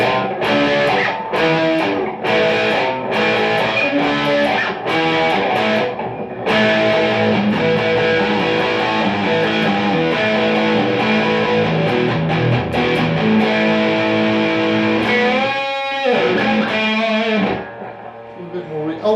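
An electric guitar played through a Blackstar HT Club 40 amp on an overdrive channel, loud distorted chords and riffs ringing continuously with brief pauses and sustained notes.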